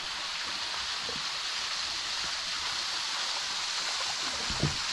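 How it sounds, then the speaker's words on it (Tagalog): Steady rushing water falling into a stream, a continuous broadband splashing roar that holds constant throughout with no voices. "Tubig yan, bagsak ang tubig."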